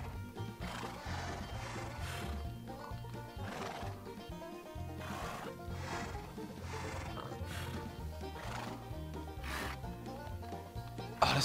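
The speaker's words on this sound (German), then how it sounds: "jetzt das erste Pferd ist wahrscheinlich ein Esel" Horses in Minecraft neighing and whinnying repeatedly, one call after another over a herd's clip-clop and steady background music, fairly quiet throughout with no talk.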